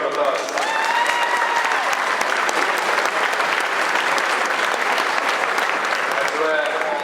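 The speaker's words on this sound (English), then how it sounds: "I'd like to give them a round of applause." Sustained, dense applause from a crowd after the Tipperary minor county hurling final between Thurles Sarsfields and Ballingarry, steady and loud throughout with a few voices and whistles mixed in.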